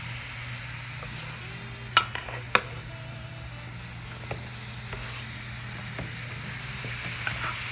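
Zucchini goes into a pan of frying bacon and onions, raising a steady soft sizzle under a low hum, with a couple of sharp utensil clicks near the start.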